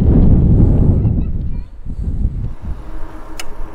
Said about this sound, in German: Ganz schön windig hier oben, gell?